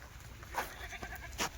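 A few Kathiyawadi goats give short, faint bleats, two brief calls standing out over quiet background noise.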